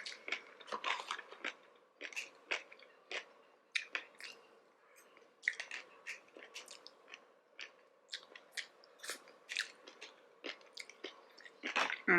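Sushi with seaweed being chewed close to the mic, a quiet sequence of wet, crunchy bites and mouth clicks repeating irregularly and alone.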